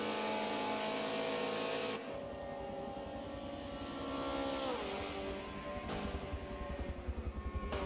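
A race car in the Forza video game roars at high revs with a loud, continuous engine drone, shifting gear partway through as tires hum and grip underneath.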